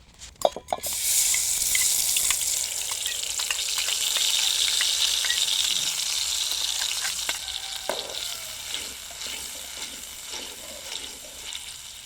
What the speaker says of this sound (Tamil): இப்போ இந்த எண்ணெய் கூட இந்த மசாலாவை சேர்த்துக்கலாம்.